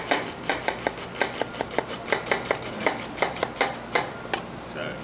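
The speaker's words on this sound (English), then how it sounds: "Just do a little chopping." An onion chopped with a knife on a board, fast steady rhythmic taps close up, about three strikes per second, with no talking.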